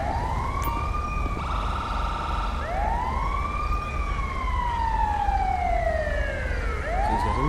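A wailing ambulance siren in a police video game sweeps up and down repeatedly, loud and steady, with overlapping siren tones and traffic rumble underneath.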